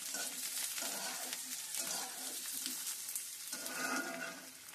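Onions frying in a pan, a steady crackling sizzle that swells and eases in waves, continuous and close throughout with no voices.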